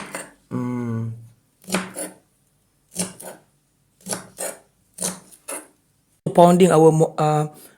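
A knife chops winged beans (kecipir) on a cutting board in a home kitchen, a handful of crisp taps in short groups, separated by brief gaps, while someone talks over them.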